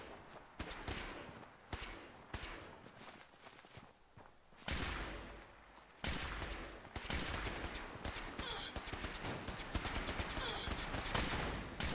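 Gunfire erupts in the modded video game Fallout 4, Far Harbor DLC. Irregular bursts and single shots are mixed with footsteps and impacts, at moderate loudness, and a voice is heard only faintly.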